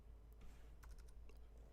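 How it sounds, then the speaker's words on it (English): Quiet, close computer keyboard typing in short bursts of light clicking keystrokes over a low steady hum, with no talking. "Just typing in Robert Kennedy 3."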